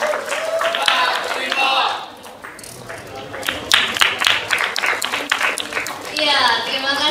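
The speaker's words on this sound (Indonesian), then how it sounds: "Beri tepuk tangan sekali lagi untuk Gasan" After a company presentation at an award event, an audience claps in scattered bursts that swell, fade and return, while a host's voice speaks over the room.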